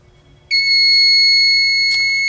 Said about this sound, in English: That's our timer letting us know it's time to release the heat press.